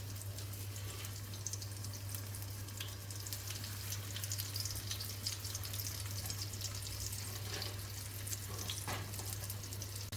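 Breadcrumb-coated pork frying in a pan of hot oil, giving a steady crackling sizzle throughout over a low electrical hum, with no talking.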